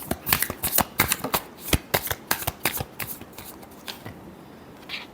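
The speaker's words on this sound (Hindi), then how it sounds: "last shuffle" Tarot cards being shuffled by hand, a close, rapid series of crisp riffling flicks and slaps that gradually thin out and slow toward the end.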